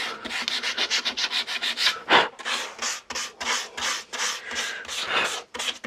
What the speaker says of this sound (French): On ponce